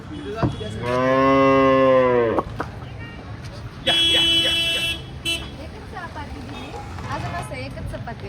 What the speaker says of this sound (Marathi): गायचा आवाज मस्त.